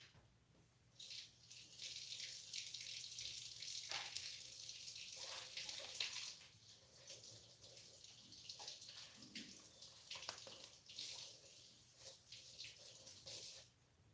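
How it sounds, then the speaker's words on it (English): A tap runs steadily into a sink as hands are rinsed under it, a close, hissing gush with brief changes as the hands move through the stream, then the flow cuts off. "Let me just rinse my hands quickly."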